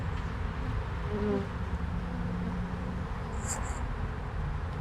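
Honey bees at an urban backyard beehive make a steady, dense buzzing hum close by throughout. A brief higher whine near the end may be a single bee passing the microphone.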